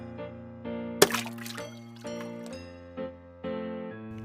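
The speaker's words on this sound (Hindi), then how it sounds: "तभी उसके मुंह से मांस का टुकड़ा पानी में गिर गया।" In a Hindi Panchatantra cartoon, a lion drops a piece of meat from its mouth into a pond, giving one sharp splash partway through, set among soft tonal background music.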